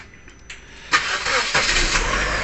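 An Opel Astra that had trouble starting cranks briefly, then its engine catches at about one second and settles into a loud, close, steady idle, with no voices.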